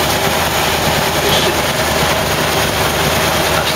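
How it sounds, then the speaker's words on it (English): A steady, continuous idle from the original flathead V8 engine of a 1946 Ford half-ton pickup, with a constant low rumble and hiss, loud and close, with no talking. "That's the flathead V8 engine"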